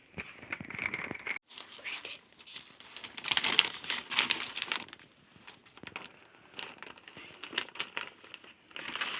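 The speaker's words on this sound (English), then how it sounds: "This bag that I have my ferns in, I'm going to cut the clear side here." Clear plastic bag that held ferns crinkling and rustling in irregular close bursts as it is handled and cut open with scissors, with soft breathy voice sounds between.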